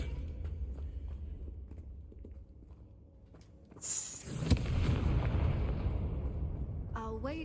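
A Confringo fire spell goes off in Hogwarts Legacy: a sharp crack and whoosh bursting into a loud, sustained rumbling roar after a quieter stretch, with a brief bright tone near the end.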